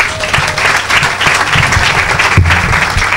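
A church congregation applauding together, a dense, steady burst of clapping from many hands filling the room at close range.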